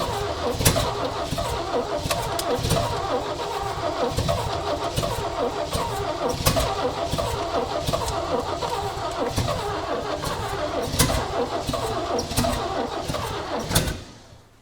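1965 Chevy engine, smoking heavily, running after a revival: loud close rough rumbling with irregular throttle surges and knocks throughout, then cutting off abruptly at the end, without speech.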